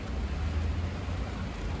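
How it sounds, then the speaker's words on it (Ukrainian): Steady rain falls outdoors on an overcast, cloudy morning, a constant broadband hiss with a low rumbling undertone and no distinct drops standing out. "Дощ іде"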